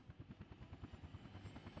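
A helicopter flies in the city-building game Workers & Resources: Soviet Republic, its rotor beating in a steady rapid chop, faint and continuous with no talk over it.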